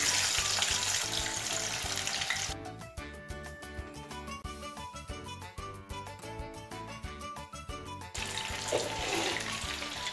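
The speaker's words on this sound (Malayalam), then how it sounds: "എണ്ണയിലേക്ക് നമ്മൾ ചിക്കൻ പീസായിട്ട് ഇട്ട് കൊടുക്കാം കേട്ടോ" Marinated chicken pieces drop into hot oil in a pan, a broad hiss and sizzle that settles into a steadier, crackling fry, then surges back to a fuller hiss near the end, with no talk.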